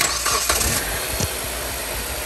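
A 2010 Chrysler Sebring with a worn motor mount starting up: a brief cranking burst that catches and settles into a steady, fairly quiet idle, heard close by with no talking.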